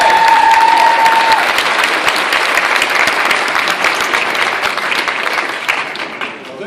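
Audience in a hall applauding Terry at a pop hall of fame induction ceremony, loud sustained clapping from a sizeable crowd that holds steady for several seconds before starting to thin.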